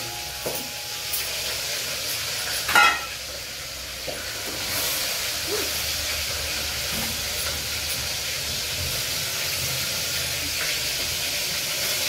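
Fish frying in a pan at home, a continuous hissing sizzle with one brief louder clatter early on, steady and fairly close with no talk.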